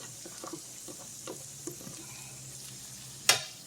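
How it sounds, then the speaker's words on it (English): Onions sauté in rendered bacon grease on a stovetop, a soft low sizzle with light stirring scrapes and one sharp metallic clink near the end, no voices. "now we're going to saute the onions a little bit here"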